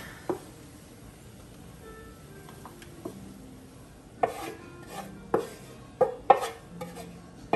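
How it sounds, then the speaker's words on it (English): Dressing mixed in a pan, heard as a run of sharp utensil scrapes and clanks against the metal, sparse at first and then quicker and louder toward the end, close by with no talk. "So Dave's gonna add it to the dressing and mix it up in the pan."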